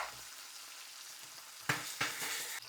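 Tomatoes frying in a pan with asafoetida, a soft continuous sizzle with two sharper stirring strokes near the end, quiet and close.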